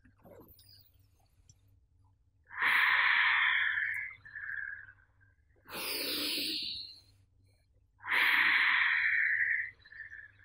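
Deep, drawn-out breaths of a pranayama breathing exercise, three long airy exhalations separated by pauses, close and soft in a quiet room.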